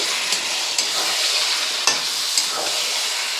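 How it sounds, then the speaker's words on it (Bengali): Steady, close sizzling of mutton frying with spices in a pan, with a few sharp scrapes of a spatula as it is stirred. "দেখুন আমরা মটনগুলো মশলার সঙ্গে ভালো করে কষিয়ে নেব।"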